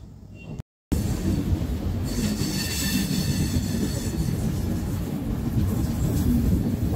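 The Duronto Express from Sealdah to New Delhi runs near Kanpur with a loud, continuous rumble of wheels on rails and a faint metallic squeal. A brief dropout near the start is followed by steady roaring motion.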